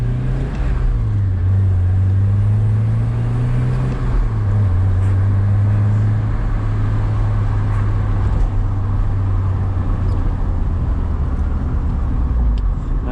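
A Porsche 944 coasts along a bumpy lakeside road with the clutch held down, its engine droning steadily from inside the cabin under continuous road rumble, the pitch dipping and settling without any voices.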